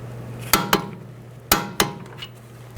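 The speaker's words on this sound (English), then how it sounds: "And torque this nut to 58 foot-pounds." Metal tools on a strut nut of a 2007-11 Honda CR-V during front strut replacement: two pairs of sharp metallic clicks, like a torque wrench ratcheting and clicking, spaced about a second apart over a steady low hum.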